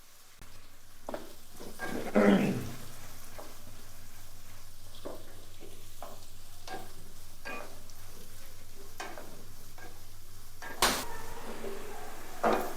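Medium-size onions, finely chopped, sizzle and get stirred in a pan for goat leg soup, with a steady low frying hiss, scattered scrapes and clatters of a spoon, and a louder burst of stirring near the start.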